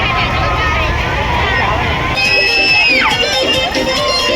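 A busy crowd fills the grounds of the Shivrinarayan fair, a constant loud babble of voices with shouts and passing engine noise, while someone talks close by.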